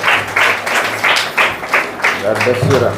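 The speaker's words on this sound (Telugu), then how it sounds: "అంత చప్పట్లు పెట్టాలి" A group claps at an orphan home in a steady rhythmic beat, each burst evenly spaced, with voices mixed in beneath the clapping.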